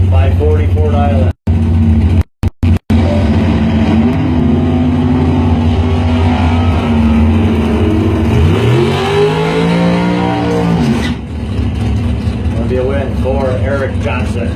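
Race cars at a drag strip during junior finals, including a 1972 Challenger, roar steadily under a track announcer's continuous talk, with a rising engine sweep near the end.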